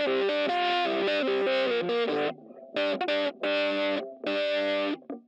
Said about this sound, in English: The doubler also gives it that weird chorusing.